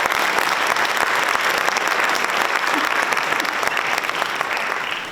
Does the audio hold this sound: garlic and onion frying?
no